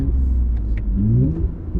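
A Toyota Camry with a D3 Performance tune revs under acceleration while shifting with paddle shifters, a deep rumbling engine note rising in pitch with a brief dip at a gear change, close and loud from inside the cabin.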